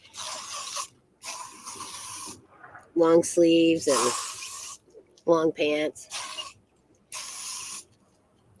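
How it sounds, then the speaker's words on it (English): Several hissing bursts of aerosol bug spray, each lasting about a second, alternate with a person talking nearby. "I'm gonna grab the bug spray, and I'm gonna spray myself down"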